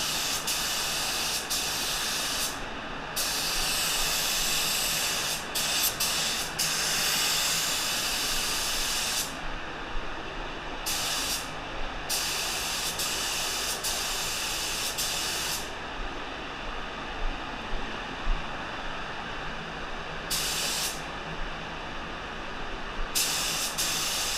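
Steady hissing spray gun applying paint to a 2020 Dodge Charger fitted with a Vicrez widebody kit, loud and continuous with several brief pauses between passes, no talking.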